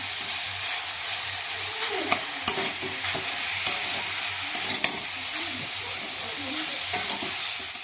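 Chicken stirred in a hot frying pan gives a steady close sizzle, with sharp spatula clicks and scrapes against the pan at irregular intervals and no talk.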